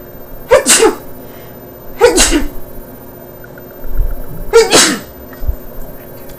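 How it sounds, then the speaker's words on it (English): Three loud sneezes, the first two close together and the third after a short pause, with faint background noise between them. "I usually sneeze 3 times in a row"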